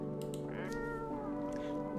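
A cat meows in the horror video game No, I'm Not A Human, one short mewing call rising over a steady hum of game music.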